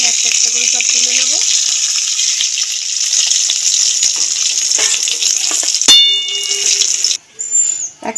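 Rohu fish pieces sizzle loudly in hot oil in a steady, bright frying hiss, briefly interrupted near the end by a clink and a pause as pieces are lifted out, with a voice faintly heard early on.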